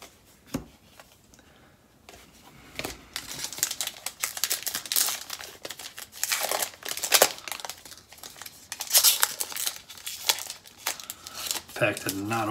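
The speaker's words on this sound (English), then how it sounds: "Pack did not open very well." A Topps Heritage baseball card pack wrapper is torn open, with loud, close crinkling and ripping foil that comes in irregular bursts, continuing for several seconds before and while cards are handled, and someone talking at points.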